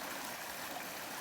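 The Dunlugan River in the Sperrin Mountains flows like a small brook, a soft steady rush and trickle of water heard alone without talk.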